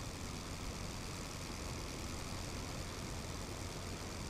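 Steady droning engine of a Sopwith Camel biplane taking off in the World War I flight game Rise of Flight, a constant broadband roar that stays faint and even throughout with no talk.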